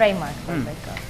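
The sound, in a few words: grated coconut frying in a pan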